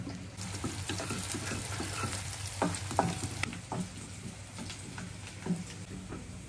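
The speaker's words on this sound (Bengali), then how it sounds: "আগে পেঁয়াজটা হালকা করে ভাজতে হবে" Onion lightly frying in oil for pulao, a continuous sizzle with stirring scrapes and utensil taps, a faint running-water hiss in the background.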